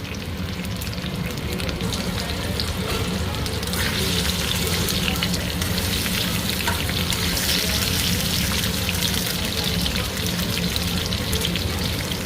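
Mango pieces fry lightly in a pan, giving a loud, continuous sizzle that crackles evenly throughout with no talking.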